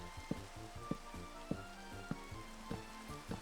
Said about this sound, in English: It is not supposed to be raining in the Nether.